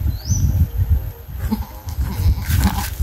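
Hybrid goats bleat in short, repeated calls close by on a farm, overlapping with farmyard rustling and a few faint bird chirps in the background.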